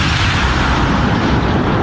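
The HARP gun, a giant research cannon, firing a probe skyward at 2,400 miles per hour: a loud, sustained roaring blast that fills the brief moment with broad rumbling noise, no voices.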